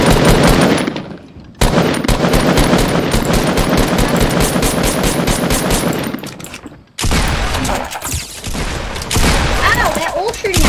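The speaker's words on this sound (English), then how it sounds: "they're all shooting at me" Rapid automatic gunfire in Fortnite Battle Royale, loud and sustained bursts with short pauses, continuing over a player's voice in the later part.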